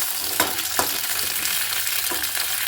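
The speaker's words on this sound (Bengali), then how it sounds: "শিমগুলোকে ভালো করে ভাজতে হবে।" Broad beans fry in a pan, giving a steady close sizzle with a few soft knocks and stirring clatters scattered through.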